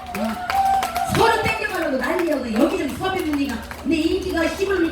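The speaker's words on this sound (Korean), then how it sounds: "박수 한번 줘라 좀" An audience claps at a pumba street performance during the Myeongji gizzard shad festival in Busan, with scattered hand claps running beneath a man's loud, continuous talking over the whole stretch.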